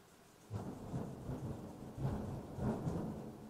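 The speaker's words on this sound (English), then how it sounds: "More thunder." Low, rolling thunder rumbles in several swelling waves over a steady hiss of rain, no voices present.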